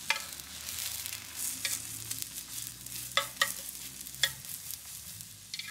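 Tamagoyaki egg mixture cooking in an oiled pan, with a soft steady sizzle broken by several sharp scraping clicks as the egg is rolled and moved, close and fairly quiet, no talking.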